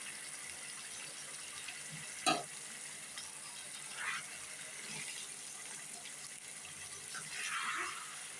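Washed chicken pieces frying in oil with chili powder and ginger-garlic paste for a chicken curry, a steady soft sizzle with a few clinks and scrapes of a utensil against the pan.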